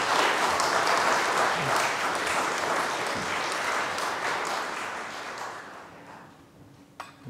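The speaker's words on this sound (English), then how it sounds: "Let's give our ladies a big round of applause." A church congregation at a Sunday vigil Mass claps in sustained applause that fades gradually over several seconds, ending with a brief clatter.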